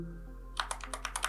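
Quick series of about nine soft, muted clicks from the W key on a Bloody S98 mechanical gaming keyboard fitted with silicone dampers, each press short and fairly quiet, close up, with no voice.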